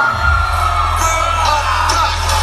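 A crowd at a cumbia concert yells and whoops together in one loud sustained roar under a low, steady bass hum from the sound system.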